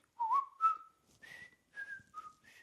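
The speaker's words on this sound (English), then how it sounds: "Andy Griffith, one of the all-time greatest theme songs" Someone whistles the Andy Griffith Show theme song alone and faintly, a short run of clear, sliding notes separated by brief pauses.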